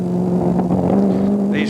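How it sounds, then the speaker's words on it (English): A road-going Ford GT40 drives at the Montlhéry race circuit during a 1991 historic Grand Prix meeting, its engine giving a loud, steady, close drone with only slight rises and falls. "This particular GT40, a road-going version."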